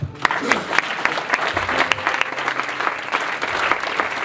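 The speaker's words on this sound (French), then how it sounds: "On acclame bien pour notre Dieu." A church congregation claps and cheers in praise during a lively worship service, a dense, sustained wash of applause with sharp individual claps, mixed with voices.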